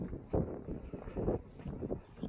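Wind buffets the microphone on a hilltop walk near Chanctonbury Ring, a steady low rumbling roar with gusty swells, close and continuous, with no voices.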